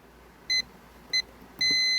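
A multimeter in continuity mode beeps across a failed solar DC inline breaker that is switched to the open position: two short beeps, then a longer sustained tone, clear and close.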